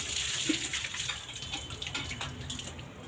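Tap water runs steadily to wash cow dung off, a close, even splashing gush with no speech over it.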